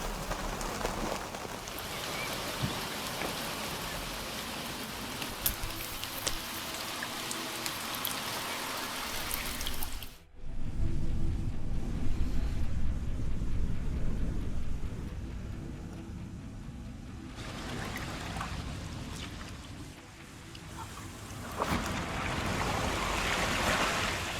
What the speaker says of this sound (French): Alors le vent souffle bien